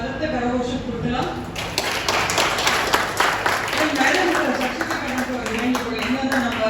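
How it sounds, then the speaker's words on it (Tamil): An audience applauds at a Tamil gathering, a dense, continuous patter of many hands clapping, with a voice talking over it throughout. "ஒரு வளர்த்த கரகோஷம் கொடுக்கலாம்."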